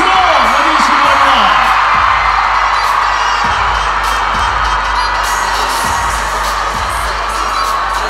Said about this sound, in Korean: 뜨거운 박수로 맞으시기 바랍니다.